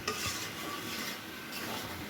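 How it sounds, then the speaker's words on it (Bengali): Bottle gourd is stirred and fried in a pan with chili powder and green chilies: a steady close scraping of the spatula over a soft continuous sizzle, with no talking. "লাউ যত কষানো যায় তত টেস্ট হয়"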